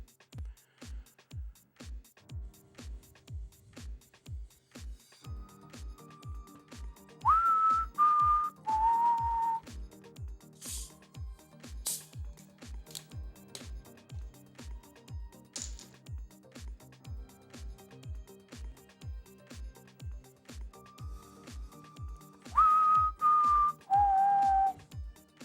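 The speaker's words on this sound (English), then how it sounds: "You know when I start to whistle." A person whistles two short tonal phrases, several seconds apart, over steady rhythmic clicking from a classic Tetris game session.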